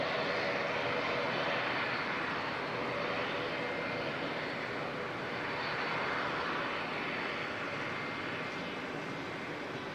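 A passenger jet at Auckland Airport gives a steady, broad engine roar lasting throughout, moderately distant and even in loudness.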